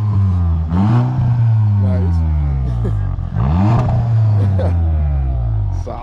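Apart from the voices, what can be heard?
1999 Ford Mustang GT engine revving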